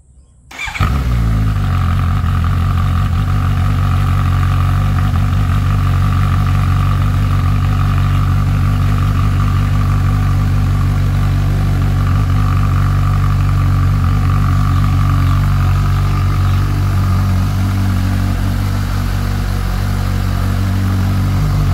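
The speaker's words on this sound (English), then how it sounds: "here is a cold start with the bike having the both silencers in." A Suzuki GSX-S750 motorcycle with a Yoshimura R11 exhaust and both silencers fitted starts from cold, then holds a loud, deep idle close by, with a slight rattle.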